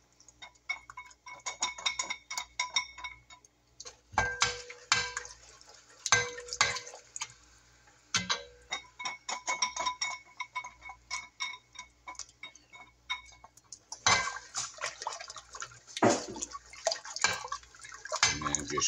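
German chocolate cake filling being stirred in a pot on medium heat, a spoon scraping and clinking against the pot in quick irregular taps, close and moderately quiet, no talking.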